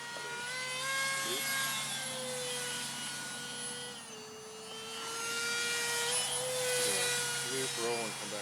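A 1/13 scale Bomarc missile RC propjet model flies overhead with a whining, droning engine tone that fades slightly midway and swells again, while people talk faintly in the background.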